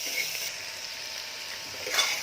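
Ghevda beans sauté in spiced oil in a pan, making a soft, steady hissing sizzle with a brief louder stir or toss near the end.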